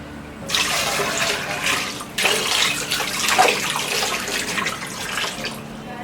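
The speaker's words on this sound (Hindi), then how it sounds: "अब हम इसमें पानी डालकर इसे 20 से 25 घंटे तक इसे सोक करके रखेंगे।" Water is poured into freshly washed clay cooking pots so they can soak, a continuous splashing gush that briefly breaks off and then resumes, close and loud, with no talk.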